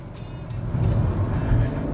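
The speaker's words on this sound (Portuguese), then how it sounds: "Esse carro tem um motor muito silencioso." Caoa Chery Tiggo 3X SUV engine while driving in manual seventh gear near 1,500 rpm, a steady low drone with road and cabin rumble, moderately loud and continuous with no talk.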